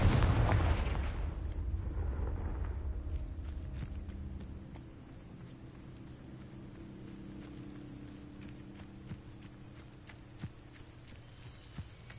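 A Confringo fire spell in the game Hogwarts Legacy goes off in a loud, booming explosion at the start, its rumble fading over a few seconds into quieter ambience with scattered footstep-like taps.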